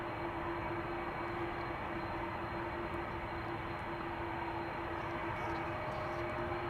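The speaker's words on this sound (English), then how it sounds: "More A330 sounds over there" An Airbus A330 airliner's engines at Amsterdam Schiphol Airport on a sunny day make a steady, distant jet roar with a faint sustained whine running through it.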